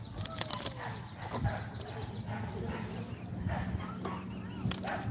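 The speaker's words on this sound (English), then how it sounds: "They're barking at the geese." Dogs bark intermittently at geese at a distance amid outdoor ambience, with a person talking over the noise.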